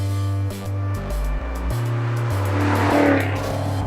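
A 2013 Maserati GranTurismo Sport with a 4.7-liter V8 revs hard and close, stepping through several blips and gear changes before climbing into a long rising, roaring pull.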